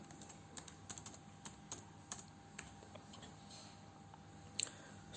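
Someone typing text on a computer keyboard, producing quiet, irregular clicking keystrokes in short bursts with a low hum underneath and no voices.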